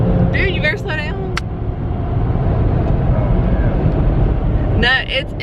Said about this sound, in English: you hear the engine a lot more, right?